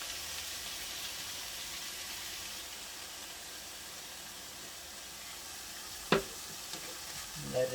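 Onion and garlic mixture sizzling steadily in hot oil, a constant bright frying hiss throughout with a sharp clatter near the end as something is dropped or stirred in the pan.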